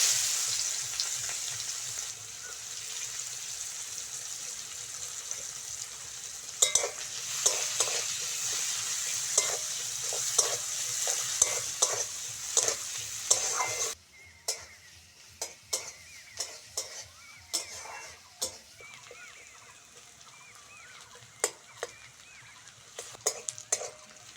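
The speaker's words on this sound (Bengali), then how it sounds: "মাছ ভাজার মতন পেঁয়াজটাও ভালো করে ভেজে নিতে হবে" Chopped onions sizzle and fry in mustard oil left over from frying fish, with steady hissing and repeated stirring scrapes, the sizzle quieting noticeably partway through while stirring clicks continue.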